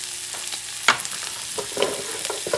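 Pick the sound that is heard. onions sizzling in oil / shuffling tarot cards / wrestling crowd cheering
onions sizzling in oil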